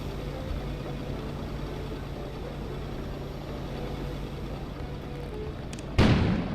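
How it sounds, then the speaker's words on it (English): An outdoor explosion in the video game Kona bursts suddenly and loudly near the end, cutting through a constant low ambient rumble and hiss that fills the whole clip. "An explosion suddenly occurred outside."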